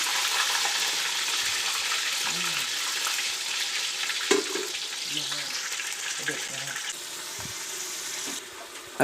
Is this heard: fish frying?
yes